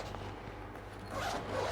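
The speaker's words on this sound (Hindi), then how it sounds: "इसमें ज़िप है, इट्स अ ज़िपर काइंड" A zipper on a ring light carry bag with foam padding is pulled open in a quiet room, a soft continuous rasp that grows slightly louder toward the end.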